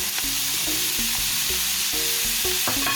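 Onions, peppers and celery fry in melted butter in a pan, a constant loud sizzle with repeated stirring scrapes and clinks close by, no talking.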